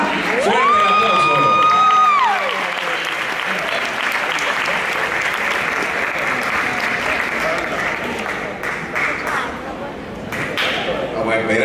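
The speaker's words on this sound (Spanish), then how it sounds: "Fuerte ese aplauso, ahí viene." An audience at the Premios Victoria awards applauds a heritage-news nominee with sustained, dense clapping from start to end, opening with a brief whistle-like tone, while voices call out over the crowd.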